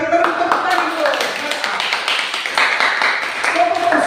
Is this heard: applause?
yes